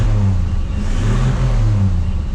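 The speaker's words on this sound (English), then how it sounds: "Rev it up just a little bit here." A restored 1959 Chevrolet Apache truck's engine revs close by, a loud, steady low rumble with slight swells in pitch as the throttle is held.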